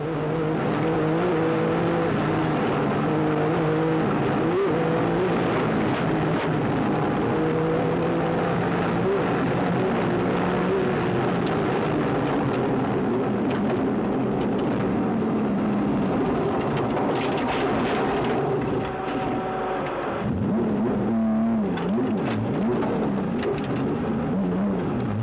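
A 1986 Circuit of Ireland rally car at full throttle into a flat-out right-hander after a very fast straight, engine roaring and shifting, then a sudden break with scraping and revving as the car crashes.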